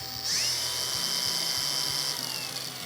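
A Procraft industrial cordless angle grinder spins up to a higher speed and then holds a steady, loud, high whine, running alone with no load.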